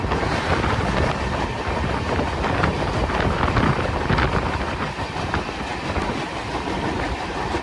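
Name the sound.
Guwahati Express train hauled by WAP-7 locomotive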